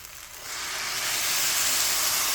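Hot water hits rice in a cooking pot while stuffed chicken is being prepared, a steady hiss that swells and holds loud for a couple of seconds.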